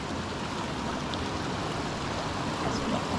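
Steady rushing water from a stream tumbling over rocks below a tall waterfall in the New South Wales bush near Orange, a continuous broadband roar with no voices.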